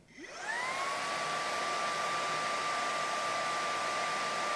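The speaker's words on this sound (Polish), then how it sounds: "jest to odkurzacz bezprzewodowy nowej generacji wyposażony w wiele technologii, które ułatwiają codzienne sprzątanie" An Electrolux 700 Turbo Drive cordless vacuum cleaner spins up and then runs at a steady, loud, high-pitched motor whine with a constant airy rush, heard alone.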